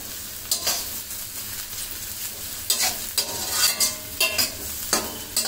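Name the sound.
onions frying and stirred in pot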